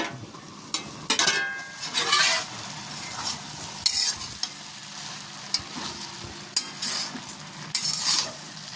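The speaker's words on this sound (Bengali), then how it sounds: "আমি নাড়াচাড়া করে নিলাম" A utensil stirs khesari leaf and potato curry in a pan as the water cooks off, giving sharp scraping strokes at irregular intervals over a soft, constant sizzle.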